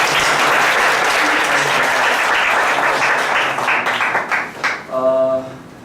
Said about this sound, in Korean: 성교사님께 박수 한번 다시